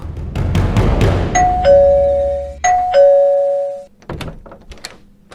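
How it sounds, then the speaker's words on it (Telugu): Two ding-dong doorbell chimes ring out clearly one after another, each a bright two-tone sustained ring, following some noisy thumps and rustling and then dying away into quieter background sounds. "ఎవడరా కాలింగ్ బెల్ పెట్టింది?"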